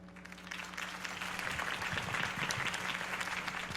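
Crowd applause following a campaign speech for Harvey Dent, dense clapping that swells after a soft start and holds loud and steady throughout, with no talking.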